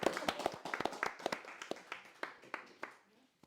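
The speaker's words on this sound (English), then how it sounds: "Big round of applause for that." Applause at a Christmas special podcast recording, sparse, distinct claps from a small audience that thin out over a few seconds before stopping, fairly quiet.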